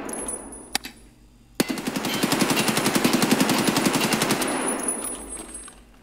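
A couple of single shots, then a long sustained burst of full-auto fire from an AKS-74U rifle in Escape from Tarkov, fast even cracks at a steady rhythm, loud and close, no talking.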